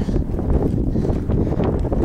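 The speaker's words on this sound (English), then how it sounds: "getting kind of windy, so I won't film as much so you guys don't have the nasty wind noise" Steady wind buffets the microphone on a mountain pass day hike, a continuous low rumbling roar with gusty fluctuations throughout and no other distinct sounds.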